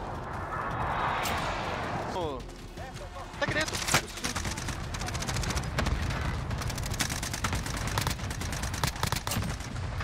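Gunfire crackles in Call of Duty Warzone (Cold War): bursts of rapid shots and booms over game noise, dense and loud in the second half, with players talking throughout.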